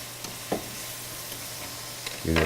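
Olives are stirred into onions caramelizing in a pan, giving a quiet steady sizzle with a couple of soft spoon scrapes and a louder clatter at the end.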